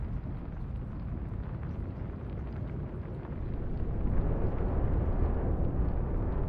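A battleship blowing up after a citadel hit in a naval warfare game, a deep sustained rumbling roar that swells louder partway through and stays heavy, with no talking.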